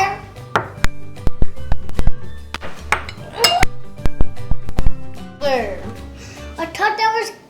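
Brown sugar being mixed into chocolate chip cookie dough in a bowl: loud, rapid clinks and clatters of a spoon against the bowl, with voices talking throughout.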